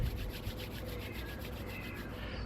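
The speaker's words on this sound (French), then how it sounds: "je frotte mes mains" Two palms rub briskly together in a steady back-and-forth rhythm during a self-massage, a close, continuous dry swishing friction with regular pulses and no talk.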